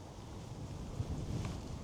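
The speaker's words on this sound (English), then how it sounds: "It's a bit windy, so hopefully it's not going to be too windy on this on the video." Wind buffets a microphone outdoors, producing a steady low rumbling roar that swells slightly near the end, with no voices.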